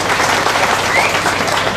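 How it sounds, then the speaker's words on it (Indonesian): A crowd at a church groundbreaking ceremony applauds, a dense, steady wash of many hands clapping close by and loud throughout. "Tepuk tangan untuk Romo Tadeus."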